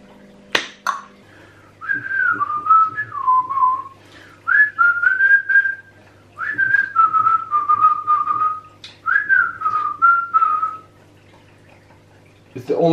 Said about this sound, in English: It's the only song I can whistle,